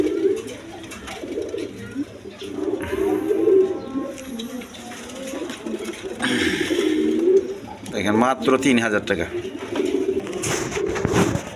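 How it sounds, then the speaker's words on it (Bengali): A pair of satin pigeons in mili coloring coo in soft, repeated rolling calls close by, while someone talks over them for most of the stretch. "এখানে এক পেয়ার গড়া কবুতর আছে মিলি কালারের মধ্যে"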